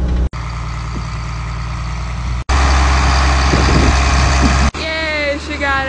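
Farm machinery moves a spreader out of a barn, its engine giving a loud, steady rumble interrupted by abrupt cuts, with a higher whining tone rising near the end.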